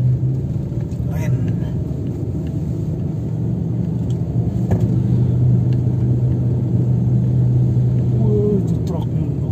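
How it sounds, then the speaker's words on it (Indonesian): A truck grinds along a bumpy, winding mountain road in the Dieng, Banjarnegara area, its engine a steady loud low rumble that continues throughout, with a few faint knocks and rattles over the top. "Itu truk luar biasa pemirsa. Jalannya berbenok-benok."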